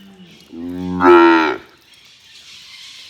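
A mother cow in a pasture gives a single loud, drawn-out moo that swells and then cuts off, followed by quiet outdoor air.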